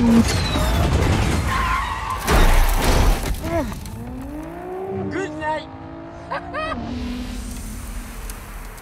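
A race car brakes hard and skids, tyres squealing in long rising and falling screeches after a loud impact-like burst, heard close and loud with engine noise and some voices around it.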